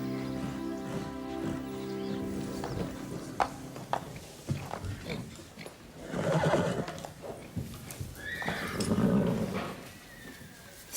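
A mare whinnies twice in a televised equestrian drama, loud drawn-out neighs standing out over soft background sounds and faint hoof clatter.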